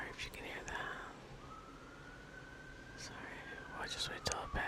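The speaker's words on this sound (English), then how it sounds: "It's a siren." A faint, distant siren wails with a long, slowly falling tone, while someone speaks softly close by.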